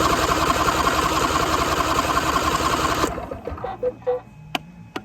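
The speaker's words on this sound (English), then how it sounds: "Hopefully it won't start because the engine's still cold." A cold John Deere ride-on mower engine cranks with a fast rhythmic churning for about three seconds, then stops, leaving faint clicks and knocks.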